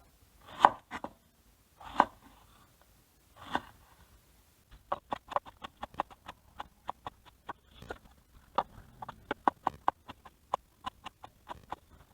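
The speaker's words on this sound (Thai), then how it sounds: "เอามะเขือยาวมะเขือยาวมาหั่นนะครับ" Knife chopping long eggplant on a cutting board for a green curry with fish balls, a few spaced chops giving way to quick, rhythmic cuts, close and clear.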